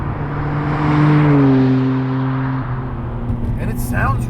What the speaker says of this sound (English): With that full Magnaflow exhaust, you get the occasional pops and there was one, pops and bangs